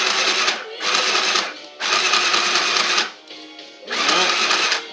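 A sewing machine stitches up the edge of a homemade N95-style fabric face mask, running in three or four loud, steady bursts separated by short pauses, with no talking over it.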